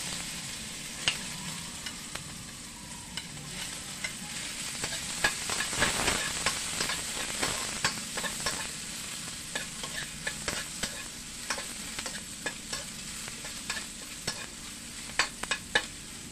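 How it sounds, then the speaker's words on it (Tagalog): Garlic and onion sizzle and fry steadily in a hot pan, with repeated scraping stirs and clinks running throughout, the sizzle swelling briefly near the middle. "Gisa na tayo ng bawang, ikasibuyas."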